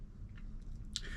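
Soft close chewing of crappie roe over rice with onion and pepper, moist mouth sounds and a couple of small crunchy clicks.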